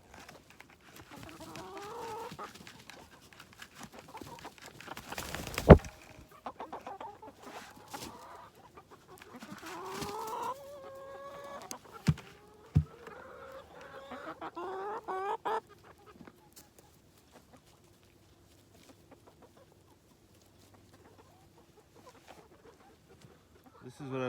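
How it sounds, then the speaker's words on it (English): Chickens cluck around a farmyard at morning feeding time, close and scattered, with a person talking and calling to them over the flock. "Come on, chickens, come get your breakfast."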